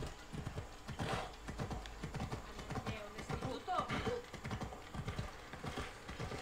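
Steady clip-clop of horse hooves trotting in a quick rhythm in the video game Assassin's Creed Odyssey, with a faint whinny partway through, fairly quiet and close.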